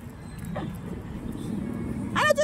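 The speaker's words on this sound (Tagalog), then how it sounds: "Yung aso kong nagpapampon." A dog up for adoption gives a couple of short barks and whimpers close by, over a noisy outdoor background, with a brief louder yelp near the end.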